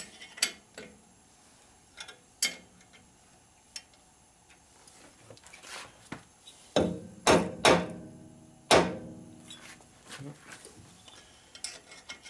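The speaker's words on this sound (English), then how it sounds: "So I have to go over here and loosen the head up." Metal tools work on a 1965 Harley-Davidson FLH panhead 74ci motor during a rebuild, loosening the heads: sharp, irregular clanks and taps, several louder close knocks mid-way, separated by quiet gaps in a workshop.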